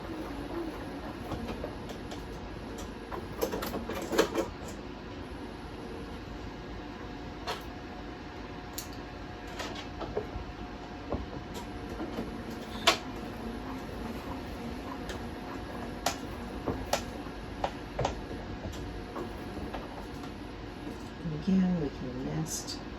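A sewing machine stitches a quilt block seam with steady rapid clicking and a mechanical rattle. It runs continuously for the whole stretch, with a few louder clacks, under a voice talking.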